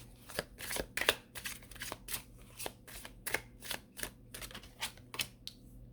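Tarot cards shuffled by hand, a quick run of crisp riffling snaps and flutters at a fairly even beat, close and soft, with no speech.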